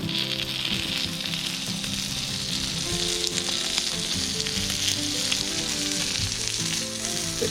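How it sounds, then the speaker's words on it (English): Bacon-wrapped smoked kangaroo fillets sear in a hot pan with a loud, steady sizzle and crackle that runs unbroken throughout, with no voices. "So we've seared the bacon, as you can see here, on these 2 fillets."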